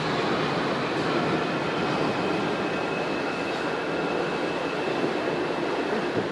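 Continuous rumbling roar of the Wuppertal Schwebebahn suspended monorail running along its track, steady and fairly loud throughout with no voices.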